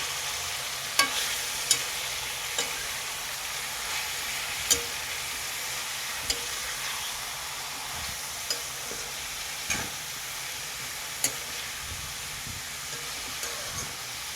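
Chopped onions and drumstick pieces fry steadily in a pan, giving a continuous close sizzle broken by occasional sharp clicks of a spoon stirring against the pan, with no talking.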